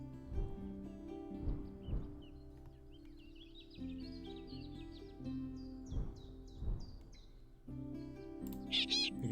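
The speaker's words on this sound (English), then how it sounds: "You can click our opponent's birds to hear their call types, their chirps, whatever you want to call it." Bird calls and chirps from the Wingspan digital board game sound in short, repeated bursts over a soft looping musical background. They are moderately quiet and there is no talking.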